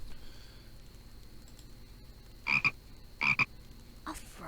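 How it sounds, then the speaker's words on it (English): Frog croaks from the spooky mansion scene of the hidden-object game I Spy Spooky Mansion: two short doubled ribbits, then a fainter third call, clear against a quiet hum. "A frog."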